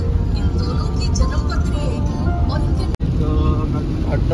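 A car drives through heavy traffic on the road to Mumbai, its steady low cabin rumble running continuously beneath people talking inside.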